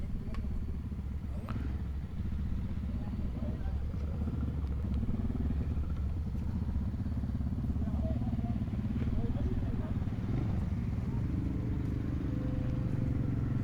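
Several rally motorcycles setting off on a mountain stage in Morocco during the World Rally Tour, engines idling and revving in a steady low drone throughout, with voices talking over the engines.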